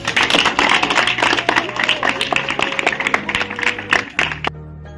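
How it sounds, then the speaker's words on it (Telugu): A classroom of students clapping together in a sustained, fairly loud round of applause that fades out near the end. "క్లాప్."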